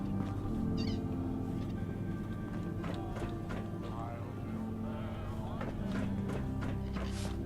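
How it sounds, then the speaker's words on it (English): A cat meows several times in the game Fallout 4, near Vault 81, over a steady hum of background music and ambient game sounds. "Her cat got loose in the Commonwealth."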